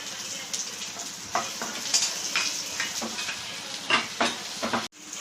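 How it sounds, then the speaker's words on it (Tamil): Thinly sliced shallots sautéing in hot oil with cloves and star anise for a soya chunk gravy, a steady close sizzle broken by repeated spoon scrapes and stirs against the pan, ending with a sharp cutoff. "சின்ன வெங்காயம் சேர்த்துக்கிறேன்"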